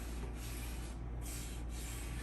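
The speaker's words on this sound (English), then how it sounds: "just by buffing it with this brush" A very soft brush buffs freshly painted furniture with a vintage green DIY paint, producing a faint, steady brushing rub with slight back-and-forth strokes close to the microphone, no speech.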